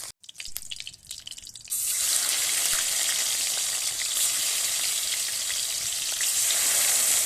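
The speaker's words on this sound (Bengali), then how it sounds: "প্রথমেই ভাঙান মাছগুলো ভালোভাবে ভেজে নিচ্ছি" Bhangan fish frying in oil for a fish and potato curry, a loud, dense sizzle that jumps up after a couple of seconds of quieter crackle and clatter, then holds steady and close.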